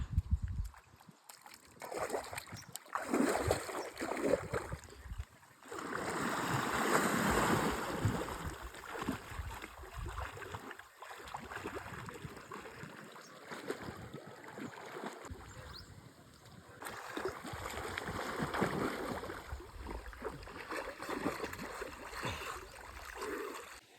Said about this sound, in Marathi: तर अशा शेततळ्यामध्ये पोहायला जाऊयात